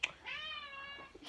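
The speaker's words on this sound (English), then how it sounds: "My cat walked in." A cat gives a single drawn-out meow, fairly close and clear, indoors with no talking.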